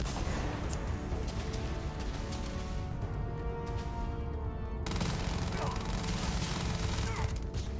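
Gunfire from the Starfield video game, a dense steady barrage of shots and blasts running throughout at constant loudness, with speech mixed in.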